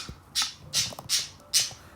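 Four loud, harsh bird squawks in a modded video game, spaced roughly evenly over two seconds, each a short raspy burst over a quiet background.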